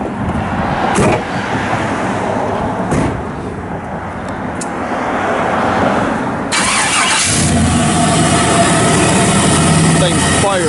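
A 1966 Chevrolet Caprice pro-touring with a 6.0 LS V8 cranks and catches partway through, then settles into a steady, loud, close-up running rumble.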